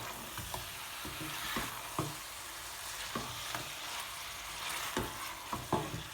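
Two chopped tomatoes sizzle and fry in a pan with mutton over medium heat, a utensil stirring them in regular scraping strokes over a constant hiss.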